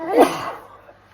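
A single sharp sneeze from a man in a studio discussion, loud and close, trailing off quickly into quiet.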